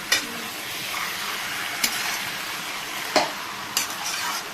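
Mutton fries lightly in a pan, a steady close sizzle broken by a few scraping clinks of a utensil stirring the meat.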